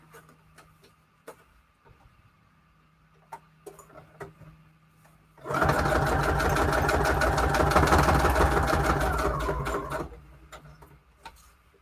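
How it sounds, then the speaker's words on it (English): A sewing machine stitches around the edge of a book page pocket, a loud close steady whir lasting several seconds, with quieter scattered clicks and handling before and after. "And then I'll sew around the edge."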